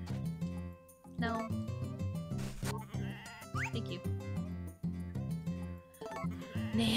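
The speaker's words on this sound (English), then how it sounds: "And the other sheep woke up." Sheep bleating on a farm, several wavering bleats in close succession, near and fairly loud, with a person speaking briefly among them.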